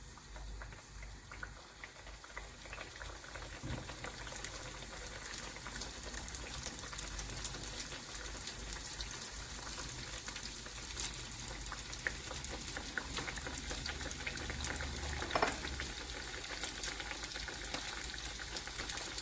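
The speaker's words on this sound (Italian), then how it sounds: "Friggiamo nell'olio ben caldo." Panzerotti frying in deep, very hot oil give off a steady, dense sizzle and crackle with scattered pops, continuous and fairly close for the whole stretch.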